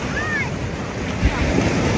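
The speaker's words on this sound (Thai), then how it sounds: "น้ำทะเลวันนี้แรงเลย" Strong Andaman Sea waves breaking on a beach at Phang Nga, a continuous loud wash of surf with wind buffeting the microphone and a faint voice briefly in the background.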